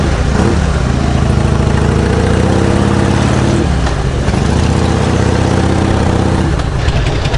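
Motorcycle engine running steadily on a two-bike touring ride near the Fuji Five Lakes, loud and close with continuous wind roar and a rising and falling engine note as the rider shifts.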